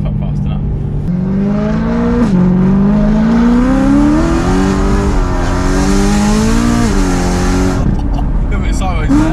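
A car engine revs and accelerates hard, pitch climbing through gear changes, loud and close, with people talking over it.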